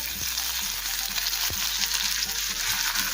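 Onion and nigella seeds fry in hot oil in a steady, dense hiss close up, with a few dull knocks of stirring and a low hum underneath.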